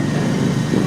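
A loud, close motorcycle engine drones steadily for a brief moment at a Fiat 500 Abarth car meet in Pavia.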